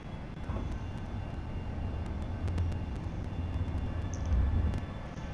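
Small airplane engine droning steadily on a landing approach to Plum Island Airport's short runway, a continuous low rumble with wind noise that swells briefly near the end, no talking.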